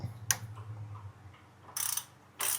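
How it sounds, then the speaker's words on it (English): Ratchet loosening a bolt on a Honda Pilot front motor mount, a few short bursts of rapid clicking separated by pauses, close and quiet over a faint low hum, with no talk. "we're just going to come down here with this ratchet"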